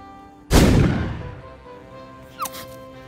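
A single loud cartoon hunting rifle shot cracks and booms, then its echo decays over about a second, and a brief faint whistle-like sound follows.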